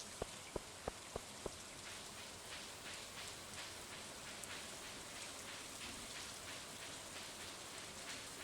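Rain in the Stardew Valley video game, a steady soft hiss of falling rain with faint pattering, a few sharp clicks early on, even and unchanging throughout.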